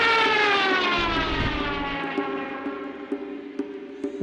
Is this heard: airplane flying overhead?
yes